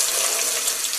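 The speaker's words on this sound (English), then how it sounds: "I'm going to run a little bit of cold water here." Cold water runs steadily from a kitchen sink faucet in a steady, close, broadband rush that holds an even level for the whole stretch, with no voices.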